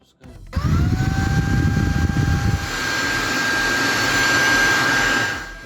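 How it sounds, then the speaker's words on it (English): A vacuum cleaner fitted with a new motor starts up. It spins up with a rising whine, runs with heavy rumbling for a couple of seconds, then settles into a steady, even hum at low speed before it cuts off. "Now I will assemble the vacuum cleaner and check it again."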